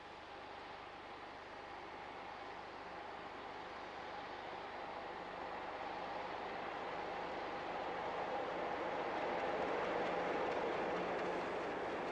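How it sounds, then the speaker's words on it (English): A Class 50 diesel locomotive hauls a train at Taunton, returning two diesel hydraulic locomotives, giving a steady broadband rumble and rail roar that slowly swells louder as it approaches, with no talk. "we start with 5015 at Taunton returning two diesel hydraulic locomotives to"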